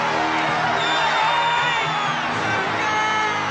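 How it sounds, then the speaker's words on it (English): Crowd cheering at a high school basketball game in the 1986 film Hoosiers, a loud sustained roar of many voices with whoops and yells rising through it. "I love how that guy's cheering so hard now"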